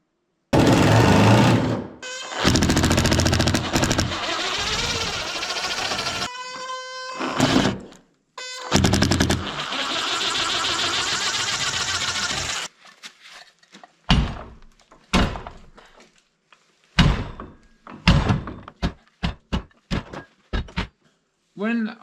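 A Soviet hammer strikes a table vise in a workshop under renovation. Loud sustained buzzing, grinding noise comes first, then a run of sharp, irregular metallic blows at close range.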